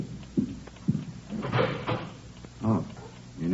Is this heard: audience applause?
no